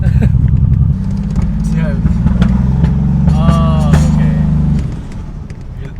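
Toyota Supra engine revving loudly and steadily, with exhaust pops and crackles on gear changes, the drone dropping away near the end; people talk over it.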